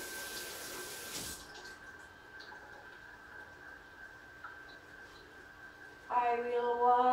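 A tomato being washed under a running kitchen tap while dinner is made: water pours steadily at a moderate level for several seconds, briefly louder at the end.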